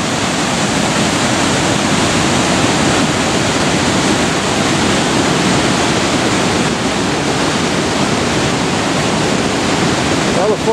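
Flooded Genesee River roaring through its canyon after heavy rain, a loud, steady, broadband rush of churning water filling every moment without pause.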